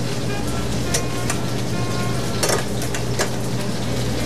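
Rabbit pieces sauté in a hot pan with a steady, loud sizzle and crackle throughout, broken by a few scraping stirs of a utensil close by.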